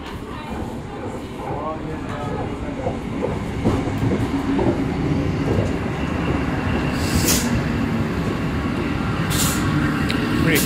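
An original-set N10 passenger train runs past on the South Coast line between Kiama and Bomaderry, a steady, loud rumble with rhythmic wheel clatter that grows slightly heavier over the span.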